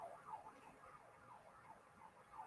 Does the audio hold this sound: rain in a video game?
no